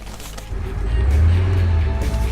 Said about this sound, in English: That V8 sounds even better in here.